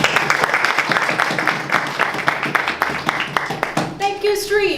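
Audience applause at an evening Toastmasters club meeting welcomes the Toastmaster, a steady burst of clapping from a room of people that runs throughout before fading into a voice at the end.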